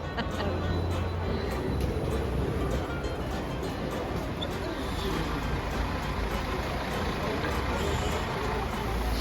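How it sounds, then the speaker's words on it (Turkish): An airport bus in Skopje gives off a loud, steady engine rumble close by, droning without pause for the whole stretch with faint higher road and mechanical hiss over it. "Böyle bir otobüs karşılıyor sizi."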